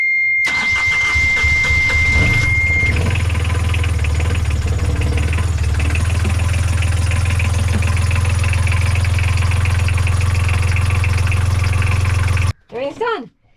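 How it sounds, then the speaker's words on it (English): A sailboat engine, just fitted with new fuel filters, cranks, catches and settles into a loud, steady running rumble close by, then cuts off abruptly near the end, followed by brief speech. "Engine's running well with new fuel filters."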